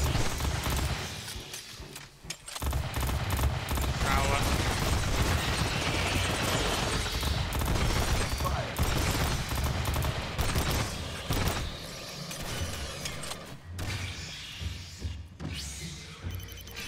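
Shotgun fire during a breach in the video game Aliens Fireteam Elite, with dense, continuous blasts and mechanical clatter layered over chaotic combat noise that stays loud throughout before easing slightly near the end.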